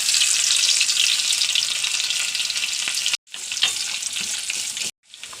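Onions fry in hot coconut oil for a prawn and mango curry, giving a loud, dense, continuous sizzling hiss up close, interrupted by two brief silent cuts.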